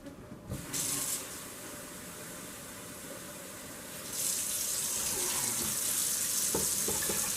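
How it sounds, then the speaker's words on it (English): Running water pours steadily into a jug for making mead with a hissing rush, a brief burst early on, then a louder, fuller stream for the remaining few seconds, with small clinks near the end. "I'll add some more water."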